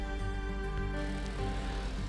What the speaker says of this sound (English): Excuse my noisy fan here.